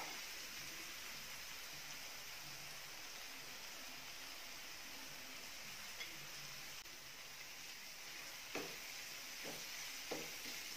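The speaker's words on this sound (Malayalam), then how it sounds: "മഞ്ഞൾപ്പൊടി ചേർത്ത് ഇതുപോലെ തന്നെ ഒരു 2 മിനിറ്റ് നന്നായി ഒന്ന് വഴറ്റി കൊടുക്കുക" Tomato masala with turmeric powder sautés quietly in a pan for chicken curry, a faint, steady sizzling hiss with a few soft stirring clicks near the end.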